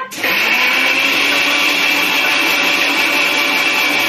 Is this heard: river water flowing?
no